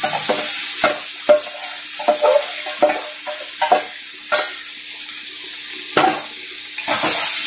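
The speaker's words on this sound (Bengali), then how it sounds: "ভাজা সবজিগুলো দিয়ে দিচ্ছি" Fried vegetables for a mung dal are stirred in a hot pan, with a steady sizzle running underneath and repeated scraping strokes of a spatula landing in uneven bursts, close and clear, with no talking.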